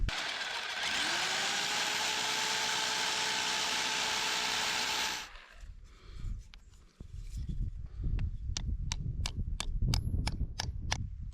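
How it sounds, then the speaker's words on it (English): A power drill bores a large hole while setting out a garage slab, whirring loudly and steadily for about five seconds before stopping, followed by scattered knocks, scrapes and sharp taps of nearby handling. "get the bigger drill to drill a big hole out."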